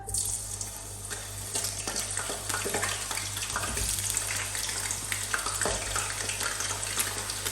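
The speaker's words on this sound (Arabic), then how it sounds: "خليت البطاطا تتقلى على روحها باش ناخذ زيت." Potato cubes fry in hot oil with a steady, even sizzle and bubbling that holds at a constant level, close and unbroken, with a low hum underneath and no talking.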